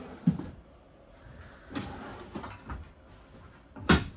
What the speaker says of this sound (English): You open this right here and you got your drawers.